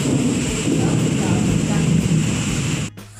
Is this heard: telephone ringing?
no